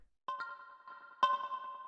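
Percussive synth bell notes run through a drum bus effect, two sharp bright strikes with ringing tonal tails, the first followed by a quick repeat and the second a louder hit with a longer sustain, alone and close.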